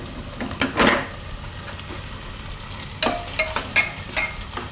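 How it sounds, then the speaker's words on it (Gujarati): A spoon stirs spice masala into a frying Gujarati curry of val beans and potatoes, giving sharp scraping strokes against the pan over a quiet sizzle, with two clusters of stirring a couple of seconds apart. "અને આ મસાલો જે આપણે તૈયાર કર્યો એ આમાં મિક્સ કરી લેવું."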